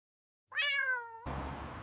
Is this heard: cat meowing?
yes